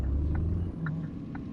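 A heavy truck in the PS4 trucking game On the Road labours to get up to gear around Frankfurt, its low engine drone holding steady, then dropping and thinning as the revs fall away.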